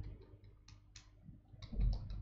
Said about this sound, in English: I am then going to start typing